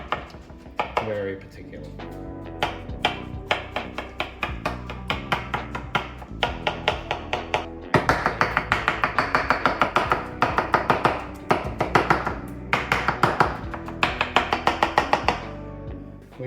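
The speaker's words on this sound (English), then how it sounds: "Next is our crucial step, just chopping this up. Just give it a rough chop." Roasted, peeled eggplant roughly chopped with a knife on a board, fast steady rhythmic chops, close and loud, growing busier partway through, with brief speech at one point.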